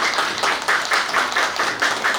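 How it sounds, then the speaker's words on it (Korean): Audience applause at a Korean theatre press conference honoring two veteran actors, a short burst of rhythmic clapping from a small group, fairly close and steady, with no talk over it. "박수 부탁드리겠습니다."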